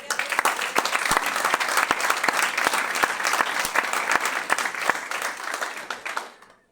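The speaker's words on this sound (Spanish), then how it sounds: "Primero, aplauda al Señor." A church congregation applauds together during a Spanish-language sermon, a dense, steady burst of many hands clapping at close range that fades out at the end.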